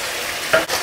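Ginger and onion sauté in a pan with a close, steady sizzle, broken by one brief metallic scrape of stirring.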